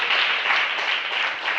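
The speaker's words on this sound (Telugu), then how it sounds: "చప్పట్లు కొడదాం." A church congregation clapping together during Sunday worship, a dense, steady burst of many hands applauding close by, continuous and fairly loud for a second or two.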